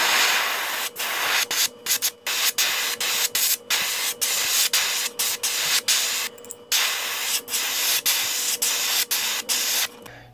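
Spray paint hisses in repeated short bursts onto a wooden saltwater popper lure, each burst cut by brief pauses, close and steady with no talking.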